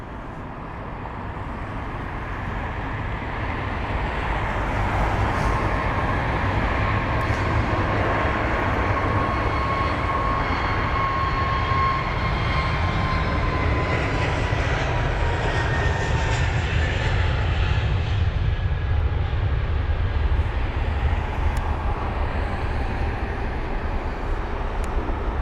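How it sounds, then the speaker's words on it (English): Airbus A321neo jet taking off at London Heathrow, its engine roar swelling over the first few seconds and then holding strong and steady with a faint rising whine, no voices. "Off the A321neo goes."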